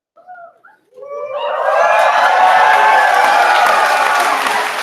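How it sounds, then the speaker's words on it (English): High school graduation audience bursts into loud, sustained cheering and applause after a brief opening voice, a dense crowd roar with whoops that swells within a second and holds steady. "With audience, join me in applauding the class of 2019."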